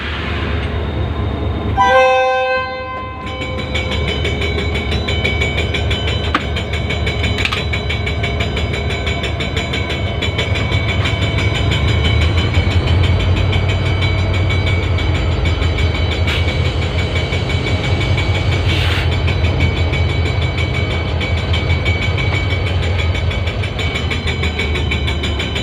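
Pakistan Railways 13 Up Awam Express passing: a brief horn blast near the start, then a loud, steady rumble and clatter of wheels and carriages rolling by for over twenty seconds, close to the track.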